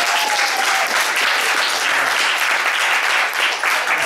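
Audience at a Black couples retreat applauding, a steady, loud wash of many hands clapping throughout with no pauses, close and full.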